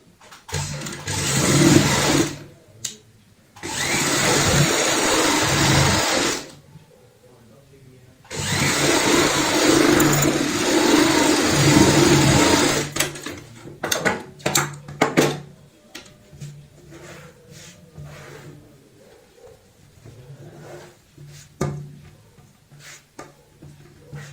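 A sewing machine stitches a half-inch seam joining a purse's lining, running in two long bursts of whirring with a pause between, then giving way to shorter handling noises and some talk.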